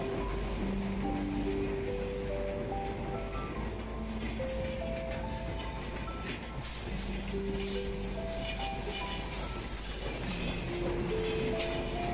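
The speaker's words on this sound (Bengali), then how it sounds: "ট্রেনটা যাইতে যাইতে কানটা একদম ঝালাপালা করে দেয়া গেল" A train rumbles past a railway level crossing in a busy city neighbourhood, loud and close throughout, a steady roar with rattling wheel clatter and shrill squealing tones rising and falling.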